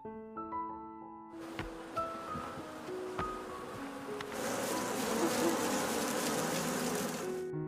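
A dense swarm of bees buzzes loudly and continuously, the drone swelling in the second half with faint rustling beneath.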